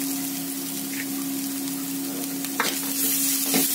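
Carrots stir-frying with ginger garlic paste for egg fried rice, with a loud, steady close sizzle and a low hum beneath, plus a few scraping stirs near the end.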